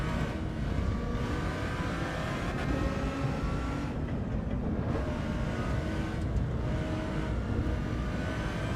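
A racing car engine in Assetto Corsa EVO drones steadily and loudly throughout, with continuous revving and shifting tones during a close battle for position on track.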